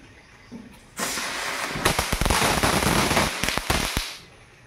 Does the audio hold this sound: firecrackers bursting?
yes